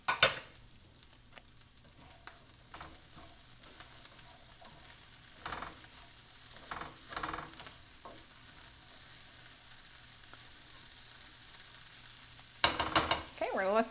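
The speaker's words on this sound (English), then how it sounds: "I'm going to go ahead and add these peppers in just to let them cook up a little bit." Peppers, green onion and corn fry in a pan with a soft, steady sizzle, broken by occasional stirring scrapes and a few utensil clinks near the end, and no one talking.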